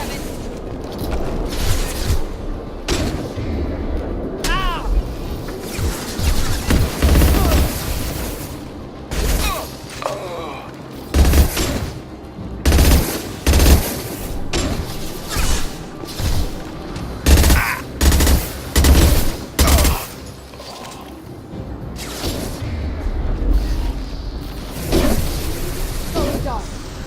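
A firefight in the Mass Effect 2 video game, with dense bursts of gunfire and heavy booming impacts repeating loud and close throughout, mixed with voices talking over the combat.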